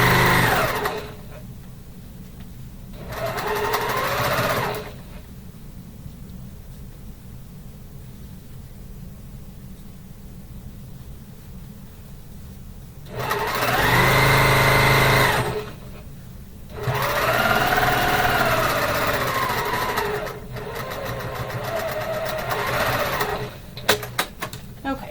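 Sewing machine stitching quilt seams in short runs, a steady high whirring that starts and stops several times between quiet pauses, with a longer, louder burst near the middle.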